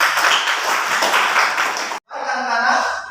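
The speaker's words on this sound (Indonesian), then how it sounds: "Tepuk tangan." A classroom of students claps and cheers in a burst of applause, a dense rattling wash that stops sharply, then resumes more thinly with mixed voices over it.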